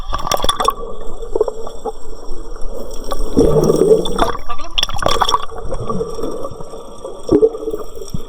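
Feet wade through shallow water on a hike in Batanes, with repeated sloshing splashes and gurgles in an uneven rhythm, close by, alongside scattered shouts and voices.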